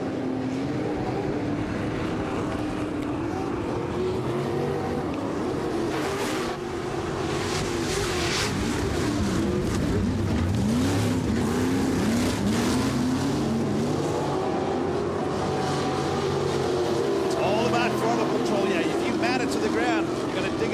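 Pro Lights off-road race trucks racing side by side at Sturgis, their engines roaring and revving steadily throughout with shifting pitch as they jostle through corners, loud and continuous under a commentator's voice.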